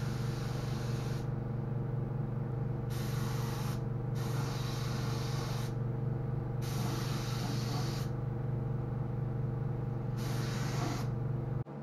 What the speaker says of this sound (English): I'm just getting a little more epoxy in those seams.